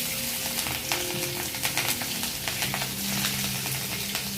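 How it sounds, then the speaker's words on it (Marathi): Green chillies sizzle and fry in hot oil for a tempering in a Maharashtrian bhindi bhaji, a steady close crackling hiss with small spitting pops throughout and no voices. "आता आपण स्टेप बाय स्टेप आधी मिरच्या टाकणार आहोत"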